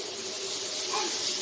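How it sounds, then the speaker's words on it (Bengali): Eggplant slices drop into hot oil in a kadai, giving a steady, close hiss and sizzle that holds level for the short moment, with a faint tonal squeak partway through. "তেল গরম হয়ে গেছে, বেগুনগুলো ছেড়ে দিলাম"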